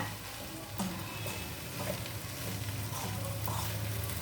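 Green beans stir-frying with grated coconut in a pan, a steady close sizzle with soft scraping stirs running throughout and no talk.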